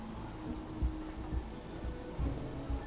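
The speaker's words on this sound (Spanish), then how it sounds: "Mogollón de lluvia." Rainfall in the video game Fallout 4, a steady hiss of rain with soft low rumbles of thunder rolling underneath at intervals.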